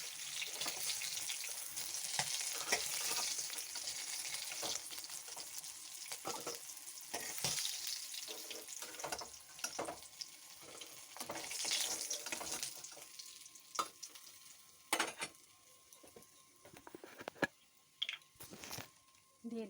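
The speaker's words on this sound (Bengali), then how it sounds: "মাছগুলো ভাজা হয়ে গেছে, তুলে নেব।" Small koi fish frying in oil crackle and sizzle steadily up close, with intermittent clinks and scrapes of a utensil turning and lifting the fish.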